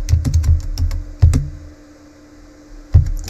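A command typed on a computer keyboard: a quick cluster of close, fairly loud key clicks, a pause, then a firm single keystroke near the end, with no speech.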